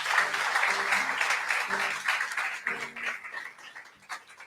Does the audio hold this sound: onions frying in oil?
no